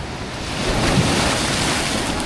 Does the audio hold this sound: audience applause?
no